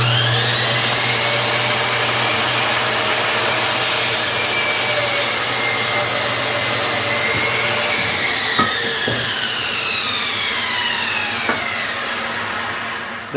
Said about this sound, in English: Here we are, saw is set up. First stud is measured at exactly 6 feet. Time to cut.